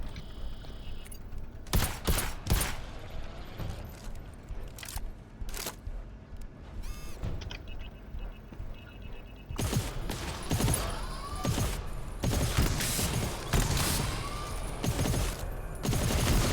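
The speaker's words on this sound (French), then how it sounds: "elle a tiré une balle" Gunfire in the co-op shooter game GTFO on an extreme-difficulty level, with sharp bursts and single shots clustered early and a dense, loud volley in the second half, mixed with game effects and no speech.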